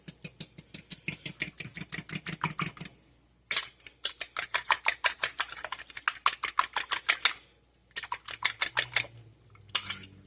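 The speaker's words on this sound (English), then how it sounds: "A tablespoon of cream. Whisk this together." Cream being whisked in a bowl for a croissant egg wash: rapid, rhythmic metallic clicking of a whisk against the bowl in three bursts with brief pauses between them, close and clear with no talking.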